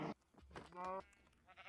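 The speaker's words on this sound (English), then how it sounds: "Oh, the sheep escaped." A sheep in a video game gives one wavering bleat, short and fairly close, set among faint game noises and quiet ambience.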